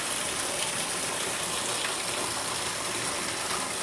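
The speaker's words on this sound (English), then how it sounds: "Waterfall of the old aqueduct." Water pours from the waterfall of an old aqueduct in the Alhambra's Generalife gardens, a dense, continuous rushing gush that stays loud and steady throughout, with no talking.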